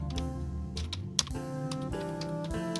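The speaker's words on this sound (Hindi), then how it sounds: "यहाँ पर टाइप हो रहा है" Rapid, steady keystrokes on a Dell wireless keyboard at a desk, close and clear with one sharper key strike partway through, no voices.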